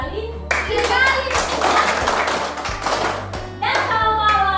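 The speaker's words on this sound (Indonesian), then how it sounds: "Kalau sore berarti tepuk kali 3 kali." Children clap their hands three times in a classroom, short sharp bursts heard close by beneath a voice giving instructions, with more talking following.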